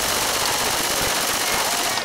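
Dense, continuous gunfire from a video game fills the stretch at steady loudness, with rapid overlapping shots layered over blasts and burning effects.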